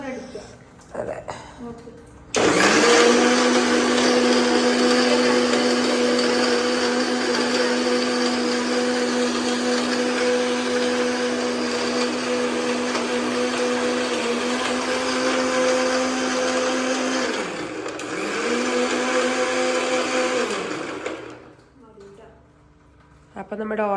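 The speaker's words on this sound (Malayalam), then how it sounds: "ഇനി ഇതൊന്ന് മിക്സിയിൽ അരച്ചെടുക്കാം." A kitchen mixer grinder whirs loudly and steadily for about fifteen seconds, blending an ice cream mix with orange peel, then cuts out, briefly restarts and winds down.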